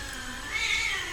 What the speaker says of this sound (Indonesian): ada kucing preman yang gangguin kucing